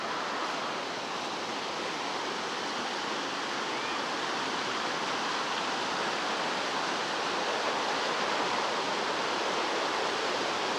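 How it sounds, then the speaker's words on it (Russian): Steady, broadband rushing of flowing water from the Vistula river in town, a constant even wash with no breaks or voices. "Вот и сама река"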